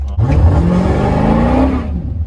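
A Dodge Charger Scat Pack engine revving hard on the gas, a loud, close, sustained roar whose pitch climbs steadily before cutting off abruptly, with no talk over it.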